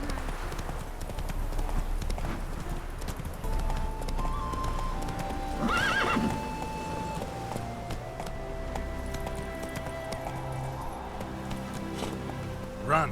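A horse gallops steadily across open ground in The Witcher 3: Wild Hunt, its hooves clip-clopping in a continuous rhythm, with a brief whinny partway through and ambient game sounds underneath.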